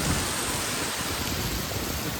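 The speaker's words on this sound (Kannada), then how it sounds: "ಓ ಮೈ ಗಾಡ್ ಎನ್ನುವಂತ ಮಳೆ" Heavy monsoon rain near Jog Falls, Karnataka, pours down in a dense, even roar, loud and continuous throughout, with no voices.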